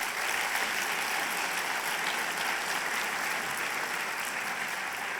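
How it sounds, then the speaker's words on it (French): A hall audience applauds as student laureates are called on stage at a poster presentation ceremony, with continuous, dense, even clapping at steady volume throughout. "que vous pouvez applaudir déjà"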